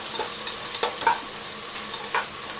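Onions sizzle in hot oil with freshly ground ginger-garlic paste for a Karnataka-style chicken donne biryani, a steady close frying hiss broken by occasional scrapes and clinks as the pan is stirred.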